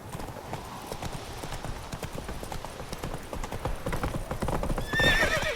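Hooves of Roach, a horse in The Witcher 3 video game, clip-clop in a steady galloping rhythm, with a whinny and a rising shrill cry near the end.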